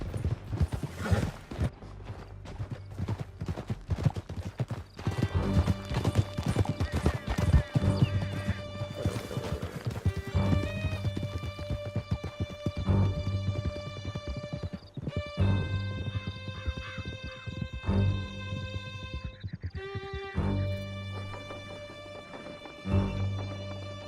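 Horses gallop with steady clip-clop hoofbeats and occasional neighs in Red Dead Redemption 2, over a dense, continuous orchestral game score, loud and sustained for the whole stretch.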